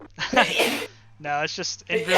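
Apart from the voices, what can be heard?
sneeze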